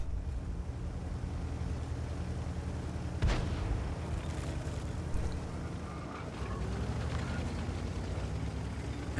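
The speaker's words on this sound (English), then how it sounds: "Make an HE shot from him." A WZ-111 5A tank fires a high-explosive shell in a tank battle game on a mines map; one sharp boom cuts through a steady engine rumble, followed by a fainter later thump.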